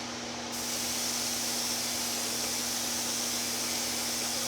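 A Black Widow airbrush, a copper-finished unit that had been dropped, sprays air in a loud, steady hiss that starts abruptly after a brief quieter moment and continues unbroken to the end.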